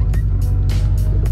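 A Subaru WRX with a built 500 hp engine idling close by, a loud steady low drone with a slightly uneven, lumpy rhythm and faint bursts of higher noise over it.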